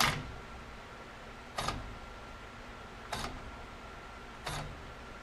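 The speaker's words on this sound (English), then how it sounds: "it's trying to start, but it's got some electric cutout and it realizes it's not moving, and so it's just stopping the tool" A DeWalt 12V XTREME cordless ratchet (DCF503/DCF504) on a 3Ah battery, set in reverse, makes three or four brief faint clicks at regular intervals as the motor tries to start and cuts out, quiet against a low hum.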